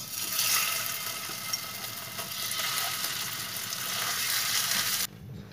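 Cumin seeds and curry leaves frying in hot oil, a steady close crackling sizzle that holds throughout before cutting off sharply near the end, with no voices.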